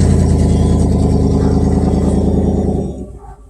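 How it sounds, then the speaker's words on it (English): A loud car engine runs close by with a steady, throaty rumble, then fades away and drops off at the end. "he's going to drive off really fast and rev up his engine"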